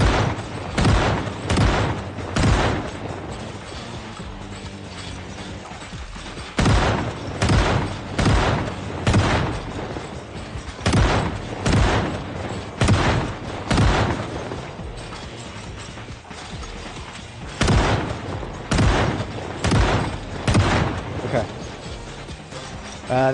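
Repeated shotgun blasts from the video game Project Zomboid, heavy booming shots in irregular bursts across the span with brief gaps, set against a low steady background hum.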